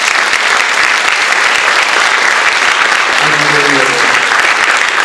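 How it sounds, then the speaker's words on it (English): An audience at a youth jazz camp concert gives loud, sustained applause, a dense, steady wash of clapping from many hands that runs the whole time, with a brief voice rising near the end. "can we have a round of applause for all these kids going 2 weeks"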